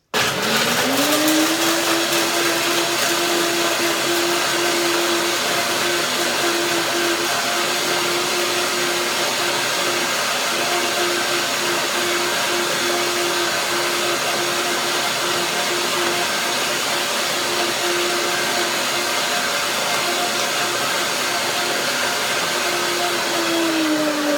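A blender blending coconut milk and cashews runs loudly and continuously, its motor whirring up to a steady high drone that holds for the whole stretch before winding down.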